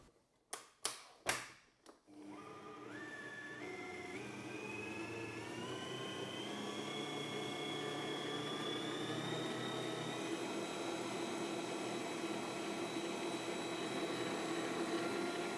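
An electric stand mixer, set to 4th speed of 7, whips meringue buttercream after a few sharp taps of the whisk being refitted; a steady, close motor whine rises in pitch and holds, with no talking.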